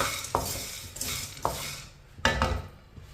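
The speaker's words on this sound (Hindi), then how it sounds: "इसे मैंने अच्छी तरह चम्मच चलाते हुए गर्म कर लिया।" A spoon stirs chickpeas and makhana in a pan over low heat, with repeated scraping strokes and light rattles about every half second under a faint sizzle.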